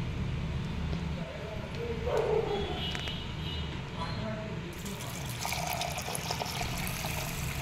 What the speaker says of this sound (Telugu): తర్వాత ఇందులోనే మనం వాటర్ వేసేసుకోవాలి